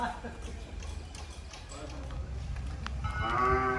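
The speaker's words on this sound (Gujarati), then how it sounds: "cute cute વાસળીઓ" A calf lets out a drawn-out moo near the end, over a steady low rumble of background noise and faint voices, at a cow shelter.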